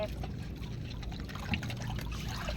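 Water is poured into a container that is not yet full, a steady splashing trickle that carries on throughout, close and moderately loud.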